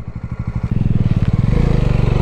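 A motorcycle pulls away on a ride near New Tehri. Its engine thumps loud and close at first, then rises into a steadier, stronger throbbing as it accelerates off.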